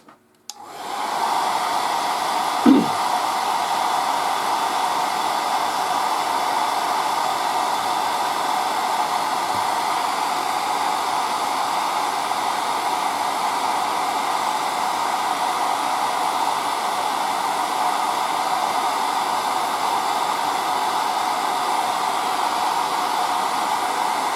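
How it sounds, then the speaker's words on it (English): A steady, loud blowing roar of an air dryer on the paint of a 1:35 scale M3 Lee tank model turret runs continuously and evenly for the whole stretch, with a brief thump near the start. "use the air dryer again"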